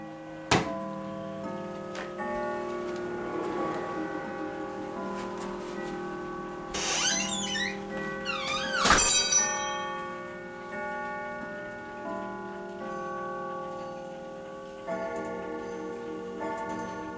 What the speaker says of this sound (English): Let you hear the chimes.